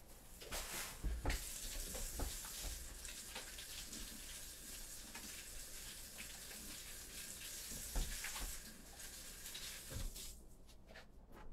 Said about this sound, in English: I'm going to wash my hands quick because I have meat on it